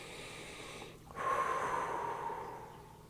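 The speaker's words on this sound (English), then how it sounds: "Oh, let me take a deep breath." One deep inhalation drawn in sharply through the nose, close and soft, rising abruptly and then easing off over a couple of seconds, with no talk.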